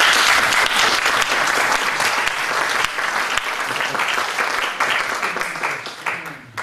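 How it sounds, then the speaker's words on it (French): Sustained applause from a lecture audience at a conference, dense and steady clapping filling the room for several seconds before gradually thinning out at the end. "je vous propose de l'applaudir"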